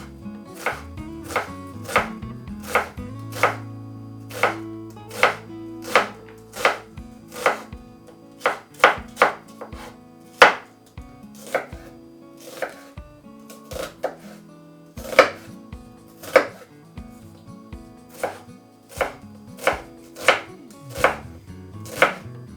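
A knife finely chops an onion on a cutting board, crisp rhythmic taps coming in quick runs over about twenty seconds, close and clear with no talking.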